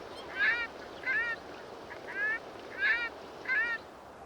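Migrating waterfowl in the Volga delta in autumn give five loud, nasal goose-like honks, evenly spaced at moderate distance over a quiet hiss of background.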